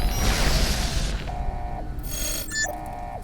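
Short electronic robotic beeps and warbling tones chirp excitedly in quick bursts after a rush of mechanical noise, from a robot character in Fallout: New Vegas.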